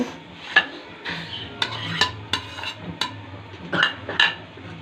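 A spoon scrapes and clinks in a bowl while stirring corn chaat with onion, tomato, potato and spices, giving a steady series of sharp taps and soft rubbing mixing sounds.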